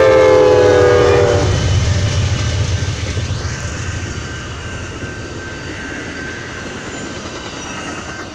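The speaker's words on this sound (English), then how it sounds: "Oh, no, this is a Coast Starlight train." An Amtrak Coast Starlight passenger train rumbles past, opening with a loud horn blast, then a long steady roar of wheels on rails that slowly fades.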